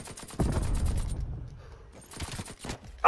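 Rapid mechanical firing of a nail gun in Call of Duty, a dense burst of sharp repeated cracks for about a second, then quieter scattered game noise and a few more distant shots, ending on a loud hit.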